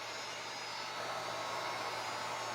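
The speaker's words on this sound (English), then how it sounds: "go ahead and do a quick dry with your handy dandy dryer" A handheld hair dryer blows on freshly painted craft pieces, giving a steady, even whoosh of airflow with a faint motor whine underneath, unbroken and fairly quiet throughout.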